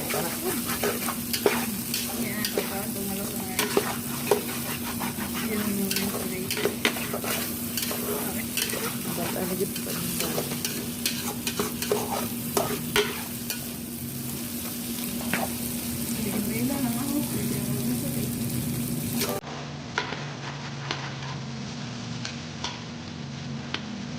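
Onions and green onion tops being fried and stirred for chaofan fried rice, a steady close sizzle of hot oil with frequent scraping and clacking of a utensil against the pan, continuing throughout without talk.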